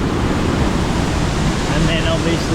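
Rushing water from the Twin Waterfall at Gitgit in North Bali fills the air as a loud, dense, unbroken roar.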